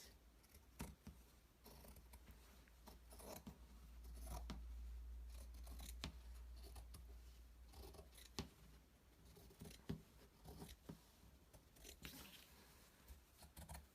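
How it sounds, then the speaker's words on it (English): Scissors snip through fabric to trim it level with a piece of fleece for a baby blanket, giving a close, quiet series of irregular crisp cuts and rustles spread over the whole span without talk. "Cut this to line it up with the fleece."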